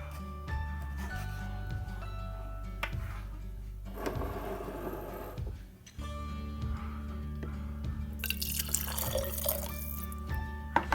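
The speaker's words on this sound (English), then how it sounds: "I'm going to take the little bit of hot water I have left and clean out my jar with it" A little hot water swirled around inside an emptied molasses jar to clean it while making gingerbread, quiet sloshing and drips rising to a louder swishing rinse near the end, close and alone without talk.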